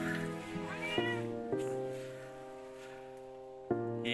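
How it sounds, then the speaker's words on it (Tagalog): A cat on an island in Caramoan, Camarines Sur, meows repeatedly up close, with drawn-out, wavering cries and a few sharp onsets over about four seconds. "pusa."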